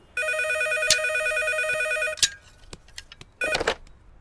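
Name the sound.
telephone ringing in the room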